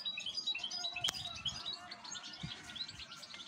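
Goldfinch and its chicks chirping, high rapid tweets and calls that are fairly faint and continuous, with one sharp click partway through.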